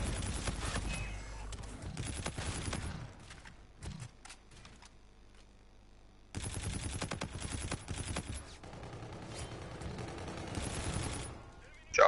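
Gunfire crackles through an online first-person shooter match, with dense bursts of shots in two long runs separated by a quieter lull, loud and close.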